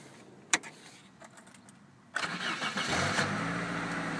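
A 1994 Saturn SL2 cold-starting in snow: a sharp jangle of keys, a short quiet pause, then the engine cranks and catches, settling into a steady idle close by.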